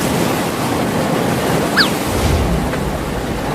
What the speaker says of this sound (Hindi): बाढ़ का पानी बढ़ रहा है।